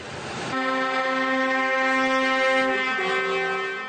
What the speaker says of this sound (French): Concert de klaxons au rond-point de Rivière-Salée.